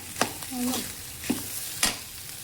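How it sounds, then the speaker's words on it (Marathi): Potatoes for sabudana khichdi being sautéed in a pan, heard as a faint sizzle with a few scraping stirs of a spatula, alone and without talk. "बटाटा चांगला परतून घेतलाय"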